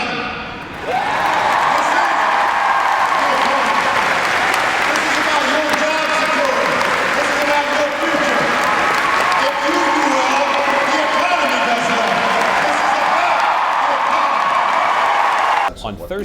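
Enthusiastic applause and cheering from a large crowd of University of Iowa students, faculty and staff, joined by the marching band, a dense sustained roar of clapping that swells in quickly and holds strong before cutting off.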